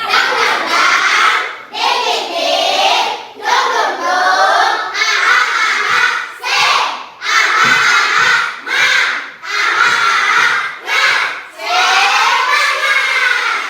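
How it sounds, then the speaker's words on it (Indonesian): Children in a classroom during an Islamic religious education lesson chant a spirited clapping routine in unison, their voices loud and continuous with short pauses between phrases and claps mixed in. "coba kita lakukan tepuk semangat"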